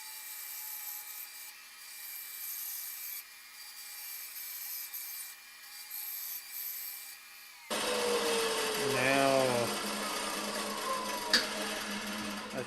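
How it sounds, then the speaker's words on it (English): A bandsaw cuts the corners off a wooden turkey pot call blank, a loud, steady buzzing rasp that starts abruptly partway through, following a quieter stretch of background hum. "we're going to take it to the bandsaw and just saw off the corners"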